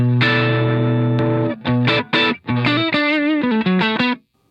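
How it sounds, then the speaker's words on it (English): Electric guitar through the Tube Screamer side of a Duelist pedal used as a mid boost into a Shinos Rocket Combo amp, a few sustained chords followed by choppy strummed stabs and short melodic phrases, with no talking. "I'm going to turn on the Tube Screamer side"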